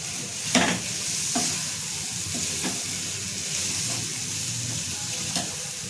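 Drumstick-leaf vegetable cooking in a pan with coriander added, giving a steady soft sizzle with a few sharp stirring scrapes of a spoon against the pan, close and moderately loud.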